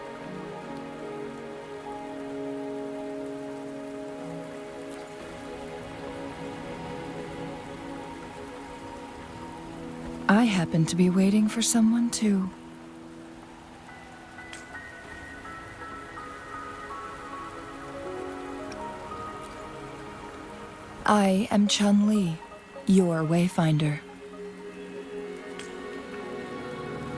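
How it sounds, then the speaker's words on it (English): Steady rain falling in the video game Wuthering Waves, a soft continuous patter running throughout, with two short stretches of spoken dialogue over it. "Are you trapped here by the rain?"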